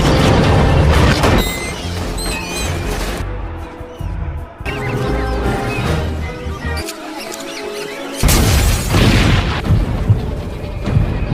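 Loud, dense booms and crashing blasts burst repeatedly over a busy, cinematic soundtrack, with brief lulls before another heavy explosion swells up.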